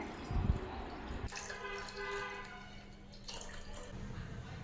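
Half a litre of milk pours from a cut plastic packet into a cooking pot while making semiya kulfi, a steady liquid stream running for a few seconds after a brief rustle, close and moderately quiet.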